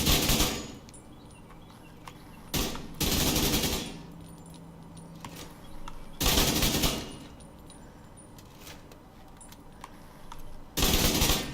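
Assault rifle fire in The Division 2 video game, heard as several loud sustained bursts separated by quieter pauses with faint game ambience in between.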